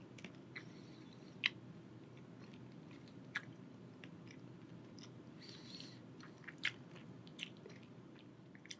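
Quiet, close chewing of Humbleberry granola with vanilla yogurt, soft mouth noises with a few sharper crunches spaced out over a low background hiss.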